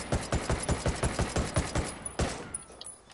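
A rifle fired in rapid, evenly spaced shots in Ghost Recon Wildlands, a steady string of about a dozen sharp reports up close, then a final shot and its fading echo.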